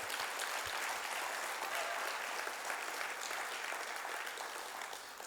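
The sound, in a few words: church congregation applauding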